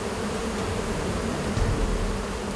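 Swarms of wild honeybees drone around a cliffside hive being smoked out, a dense, continuous buzzing that fills the air loudly and evenly, with no voices.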